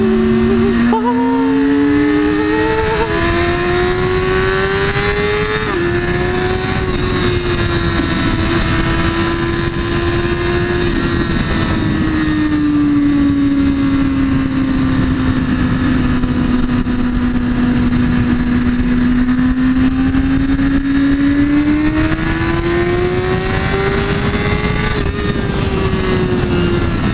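A Porsche 911 Turbo S accelerates with a loud sustained engine whine whose pitch climbs, dips and rises again across a long pull, and faint voices sit underneath.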